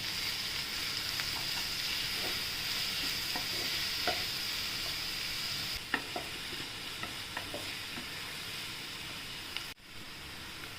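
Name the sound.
green chili and garlic paste sautéing with onion in a pan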